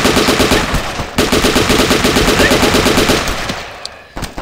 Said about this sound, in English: it's very difficult to actually aim and shoot to focus on one zombie